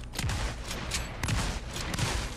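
Gunfire in a third-person shooter game shootout, a rapid series of sharp shots in several bursts, loud and close, with no voices.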